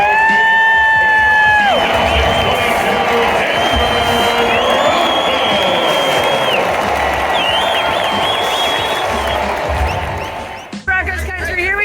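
Stadium crowd at a Denver Broncos home game against the Chiefs at Mile High, a loud, continuous roar of cheering and whoops that fills the whole stretch and drops off near the end.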